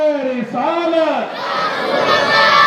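A crowd at an Eid Milad-un-Nabi mosque gathering shouting back a religious slogan: a single voice calls first, then many voices rise together in a loud, sustained collective shout.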